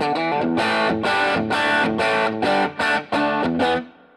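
A Fender Custom Shop Artisan walnut-top Stratocaster on its bridge pickup plays loud distorted chords, struck in a steady rhythmic pattern with thick sustain and a short ringing tail at the end.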